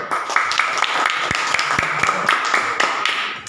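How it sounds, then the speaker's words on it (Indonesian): Children in an Indonesian school classroom clap their hands in an uneven burst of sharp, close claps. A few voices are mixed in with the clapping. "tepuk tangan dulu."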